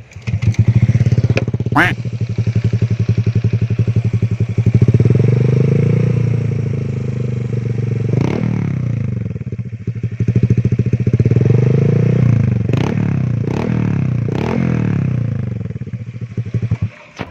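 A Honda Vario 125 scooter fitted with a BEST3 aftermarket exhaust runs on its center stand. The loud, close engine idles and is revved in several surges, with its throaty exhaust note rising and falling.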